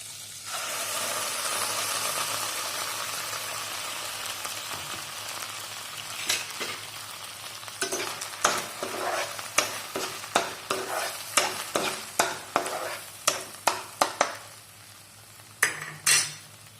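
Spice paste sizzles steadily in melted butter in a kadai for paneer butter masala, with a run of sharp scraping spoon strokes as it is stirred, close and fairly loud with no talk.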